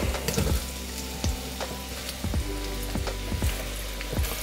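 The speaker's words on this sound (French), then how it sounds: "on va venir marquer légèrement et faire fondre les échalotes, l'ail et les poireaux." Shallots, garlic and leeks fry gently in coconut oil over low heat, a soft continuous sizzle broken by small pops and the occasional scrape of stirring, with no voices.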